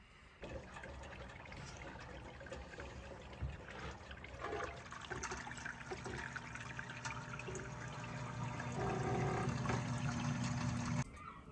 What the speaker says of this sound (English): Empty the water into the waste.